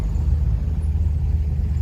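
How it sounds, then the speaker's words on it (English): At a car meet with Mercedes E63s and a Porsche Turbo S on hand, more cars roll in, making a steady, close, low engine rumble with no talk over it. "A lot of more cars are coming in."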